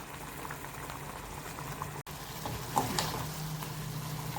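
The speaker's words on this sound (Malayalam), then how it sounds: "നല്ലോണം തിളയ്ക്കണം." A pot of curd mixture for kurukku kalan simmering and bubbling steadily, a soft continuous burble with faint pops, fairly quiet and close, with no voices.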